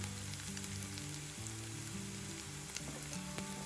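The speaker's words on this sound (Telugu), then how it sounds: "1/2 tea spoon ginger garlic paste వేసి వేయించుకోండి" Ginger garlic paste with turmeric fries in a pan with a faint, continuous sizzle and occasional soft crackles and stirring taps.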